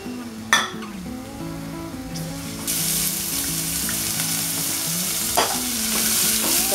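Garlic frying in a drizzle of olive oil in a pan: a bright hiss that swells louder partway through, with a few sharp utensil clicks and stirring scrapes.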